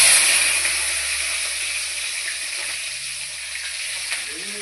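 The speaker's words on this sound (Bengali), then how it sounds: "পেঁয়াজটাকে ভালো করে ভাজিয়ে নিব।" Onions frying in hot oil with cumin seeds, a continuous close sizzling hiss that slowly eases in loudness, with no talking.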